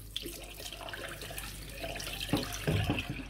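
A bathroom tap runs for a quick rinse after a shave with a shavette, a steady close stream of water with a few splashy knocks toward the end.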